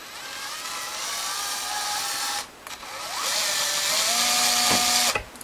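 A power drill bores small screw holes for vintage tuners in the headstock of a red Fender Telecaster electric guitar, with two steady whining runs split by a brief pause and a final stop.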